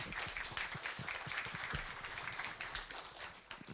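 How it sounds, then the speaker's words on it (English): Conference audience applauding a speaker, a soft, fairly distant patter of many hands clapping steadily for a few seconds before tapering off. "a new applause for you"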